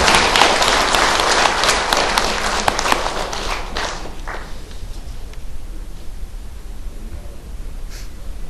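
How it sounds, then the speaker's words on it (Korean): Audience applause at a Korean seminar on compensation for Pacific War victims, a dense burst of clapping that fills the room at first, then thins out into scattered claps and rustling toward the end. "뜨겁게 박수해 주십시오."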